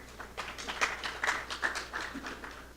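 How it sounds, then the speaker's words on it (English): An audience at an inaugural lecture gives a round of applause, with steady scattered clapping heard at a moderate distance throughout, faint chatter mixed in beneath. "Let's give him yet another round of applause."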